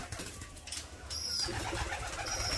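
Pigeons cooing in a new loft where a nestling has just hatched, soft low coos against steady background noise, close by.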